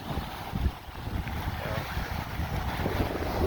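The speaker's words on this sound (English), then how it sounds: "I'm sure you can hear it's a little bit windy today" Strong wind in Mexico buffets the microphone in low, rumbling gusts that keep going with no pause.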